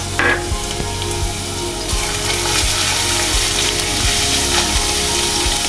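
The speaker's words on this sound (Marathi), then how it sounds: "हा लसूण छान जरासा परतून घेऊया।" Crushed garlic cloves sizzle loudly in hot oil for prawn masala, a dense continuous crackle with occasional clicks and scrapes of a spatula against the pan.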